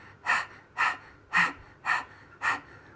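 Breath of fire from a Kundalini exercise, done tongue out like a panting dog: five sharp, forceful breathy pants in an even rhythm, close and clear with no talking.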